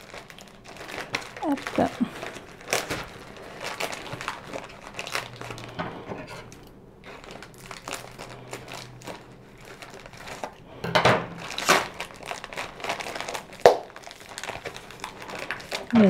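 Crinkling and tearing of plastic and tape in short bursts, close up, with scattered rustles and a brief spoken word.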